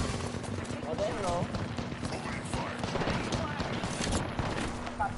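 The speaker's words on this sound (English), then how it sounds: "Stop shooting at me" Video game gunfire crackles throughout in bursts and scattered shots, blended with a busy, continuous game soundscape and voices talking in the background.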